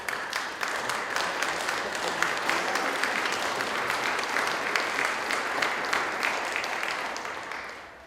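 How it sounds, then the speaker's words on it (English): Sustained applause from an audience at a human rights prize ceremony, close and dense, holding steady for about eight seconds before starting to fade at the end. "that's applause for them"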